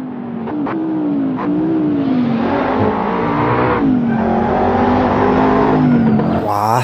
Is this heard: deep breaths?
no